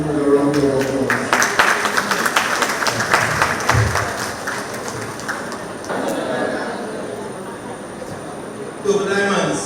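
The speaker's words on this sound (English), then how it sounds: "let's bring him on with a round of applause" An audience at a community centre monthly meeting breaks into applause to welcome a speaker, a loud dense round of clapping that gradually thins and fades, with voices and murmuring mixed in.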